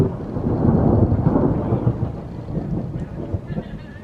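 A thunderstorm at a beach campsite in Twin Harbors State Park, with deep rolling thunder rumbling continuously and loudly, strongest early and easing into a softer, steady rumble with rain noise.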